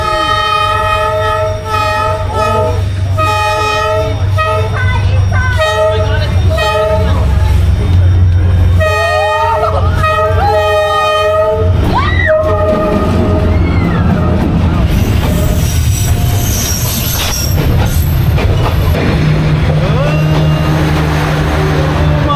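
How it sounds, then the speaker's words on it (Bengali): A train rolls through Hanoi's narrow Train Street, a loud rumbling pass building near the end with a sustained horn, over steady street noise. "যেহেতু এক্ষুনি ট্রেন আসবে"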